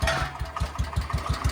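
A Wheel Horse garden tractor with a Kohler K-Series engine runs up close, chugging in a steady, rapid pulsing rhythm at a moderate, even loudness.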